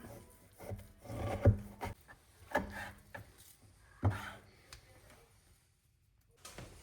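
A knife slicing semi-frozen beef into strips for jerky, giving a few sharp cutting strokes with woody rubbing scrapes, close and moderately loud, separated by quieter pauses.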